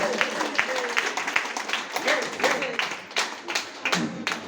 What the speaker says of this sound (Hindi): डॉक्टर नील योगी के लगे जोरदार ताली मारो